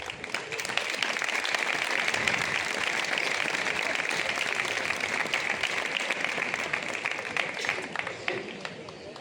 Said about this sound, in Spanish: Recibamos con un fuerte aplauso a Marina García Corisco.